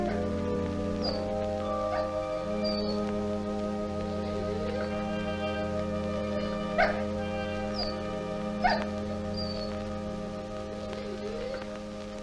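A dog whimpers and yips in drawn-out, high, wavering cries, with a couple of sharper barks standing out near the middle, heard close over a steady low background tone in an old 1946 film scene.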